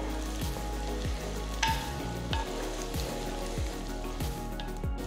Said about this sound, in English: So you need to saute the onions till they're a nice golden brown color.